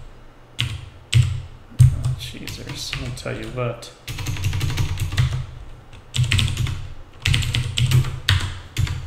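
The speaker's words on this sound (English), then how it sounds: "Still getting used to this new keyboard." Someone types in bursts on a new, compact computer keyboard. The key clicks come close and crisp, and someone talks briefly between the bursts.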